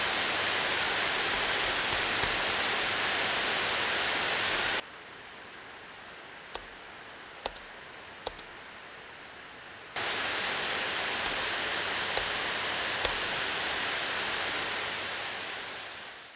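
Acer Predator Helios 300 gaming laptop fan giving a steady broadband whoosh like hissing air, which drops to a much quieter hum for about five seconds before rising again to full rush, heard alone with a few faint clicks.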